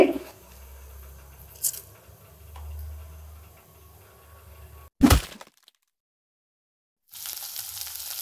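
Mustard seeds crackle in hot oil in a kadai, scattered ticks and pops over a low sizzle, then a sharp crack followed by a brief silence and a renewed hiss.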